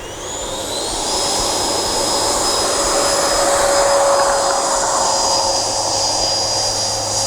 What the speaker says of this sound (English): So let's take off in the grass.